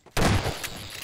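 A single shotgun blast in the video game Half-Life 2, loud and close, hitting abruptly and then ringing off in a short booming tail.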